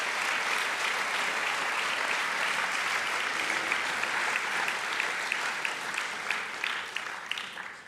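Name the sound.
audience applause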